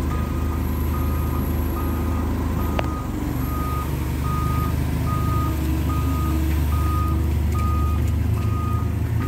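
A truck with a fully loaded trailer backing up during a move, its reversing alarm giving a steady string of evenly spaced beeps over a loud, continuous idling diesel rumble, with one sharp click partway through.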